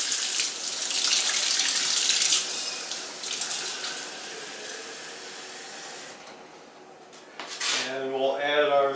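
Hot water at around 80 to 90 degrees runs steadily into a cup for about seven seconds at close range, then trails off into a brief clink and handling noise.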